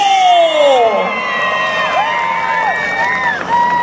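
A rodeo crowd roars and cheers in one sustained wave, with whoops and children's shouts above the din, while music or a horn line runs over the noise.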